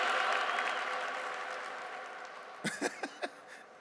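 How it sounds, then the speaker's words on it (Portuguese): A church congregation applauds in a broad, steady wash that slowly fades, followed by a few sharp, isolated knocks near the end. "Você aplaudiu porque eu dei uma gritadinha?"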